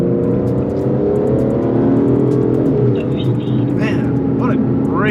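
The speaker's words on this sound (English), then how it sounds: "Man, what a great spooling turbo." Aston Martin DBS Superleggera twin-turbo V12 revving loudly and steadily up close, with rising whine and turbo spool sounds near the end.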